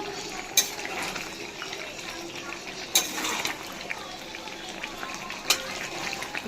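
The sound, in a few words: meat bubbling while being sautéed in a pot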